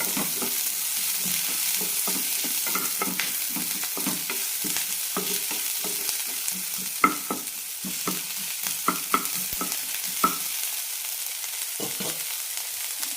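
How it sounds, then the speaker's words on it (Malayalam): Ginger and onion sauté in a pan with a constant sizzle, broken by scraping stirs and a few louder knocks of the spoon against the pan, all close and with no talking. "ഇഞ്ചി സവാള ഒന്ന് നന്നായി വഴറ്റിയെടുക്കാം"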